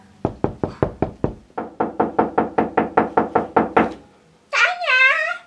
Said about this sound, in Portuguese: Ela bateu na porta.